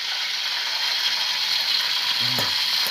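Skipjack tuna fries in hot oil with a loud, steady close-up sizzle throughout, broken near the end by a brief pop.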